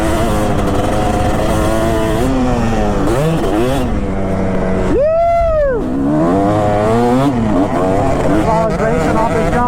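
A Kawasaki KX250 motocross bike on a woods track revs loudly and close, its engine pitch climbing and falling through several gas-ups with one sharp high rev near the middle, while voices talk over it.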